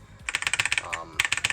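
Computer keyboard keys clack in quick, even taps, a dense run of presses, a brief lull, then another fast burst, close and crisp.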